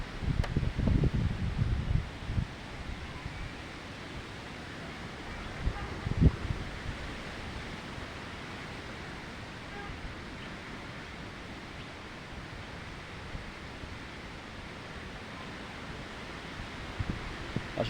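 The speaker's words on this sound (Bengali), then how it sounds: "অনেক সুন্দর বাতাস।" Wind sweeps across an open village wetland in Bangladesh, a steady rushing hiss with a few low, gusty buffets near the start and around the middle.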